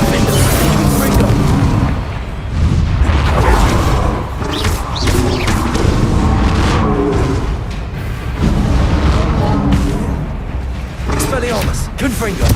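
Bombarda blasting spell explosions in the video game Hogwarts Legacy thud as repeated deep booms and heavy impacts across a loud, chaotic fight, layered with whooshes and crackling bursts.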